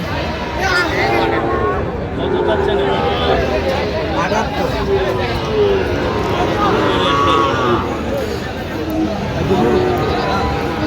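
Sahiwal cattle, young bulls and calves, moo repeatedly over a loud, crowded cattle market din with people talking and bargaining throughout.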